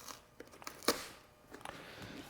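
A zipper perforation tab being torn open on a printed flexo cardboard box, a few faint scratchy pulls and crinkles followed by one sharp tearing crack near the middle, quiet and close.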